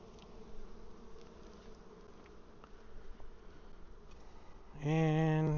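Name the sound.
honeybees buzzing during mite washing of hives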